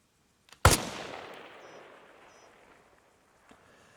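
A single loud gunshot rings out in the Arma Reforger video game, followed by a long, fading rumble of echo and a faint pop a few seconds later.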